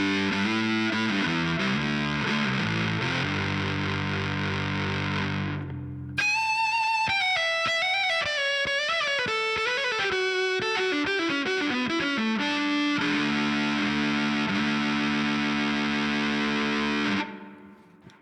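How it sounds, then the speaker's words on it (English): Violin played through a fuzz distortion effect on a Line 6 Helix processor, loud and gritty with sustained double stops and a brief gap, ending in a fading held note. "now we're gonna throw some fuzz"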